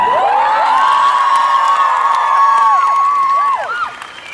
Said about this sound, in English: Massive round of applause for